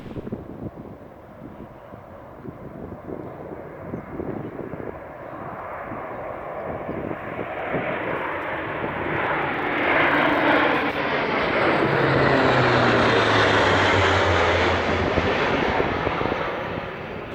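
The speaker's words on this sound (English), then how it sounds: "you had these Hercules transporter planes flying low through the glen here" Low-flying Hercules military transport planes pass through a Scottish glen, their propeller engine roar building from a distant rumble to a loud, sweeping drone that fills the air overhead.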